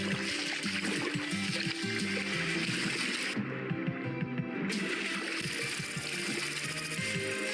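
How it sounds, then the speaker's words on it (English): Water flowing through a cave in the video game Vintage Story, a steady, continuous rushing and trickling wash that fills the whole stretch with a brief dip partway through, heard alone with no talk. "I'm hearing water flowing, and I came over here to take a look."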